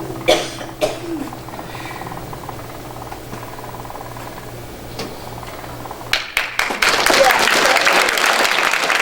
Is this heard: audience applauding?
yes